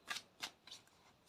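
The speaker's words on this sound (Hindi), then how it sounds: "शफल कर लेती हूँ" Tarot cards are shuffled in three quick riffling bursts, close and fairly soft, with no talking.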